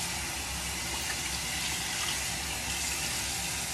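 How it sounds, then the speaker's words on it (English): Tap water runs steadily into a sink while a face is rinsed during a nighttime skincare routine, a continuous close splashing wash with no talking. "I'm just rinsing and squeezing out as I go back in."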